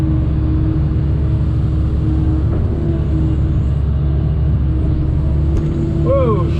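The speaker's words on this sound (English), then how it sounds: "I'll be going up and down that with this skid steer" A skid steer works a dirt pile, its diesel engine droning loud and constant at close range with a steady low rumble and a faint whine rising near the end.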